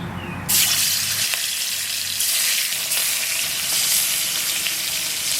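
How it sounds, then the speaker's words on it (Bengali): Oil sizzles as it hits a hot kadai while a magur fish curry is being cooked. A loud, steady frying hiss starts suddenly and continues without a break, close to the listener. "কড়াই গরম হয়ে গেছে, এবার তেলটা দিয়ে দেবো।"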